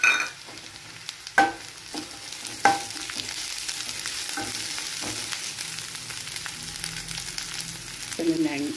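Ginger garlic paste and green chillies frying in a pan, a steady close sizzle punctuated by a few sharp clanks of a spoon stirring against the pan.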